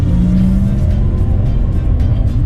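A Porsche Taycan electric sports car accelerates with a low, steady drive hum, loud and continuous, with a faint rising whine over heavy rumble and no engine revving.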